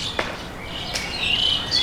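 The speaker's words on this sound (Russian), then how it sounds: "Вы слышите, как поют птицы?" Birds chirp in a green park on a school campus in Dubai, with a few short calls and a thin, high trilling song, moderately near over a quiet outdoor background.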